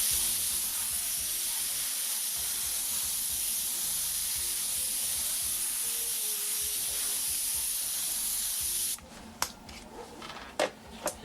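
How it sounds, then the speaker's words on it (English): An airbrush sprays white paint in a steady wide hiss for several seconds, close and even, then cuts off, leaving a few faint clicks and handling taps. "Nice wide spray right through the middle."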